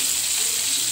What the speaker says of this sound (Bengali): এখন মাছটা ভেজে নিতেছি, রুই মাছ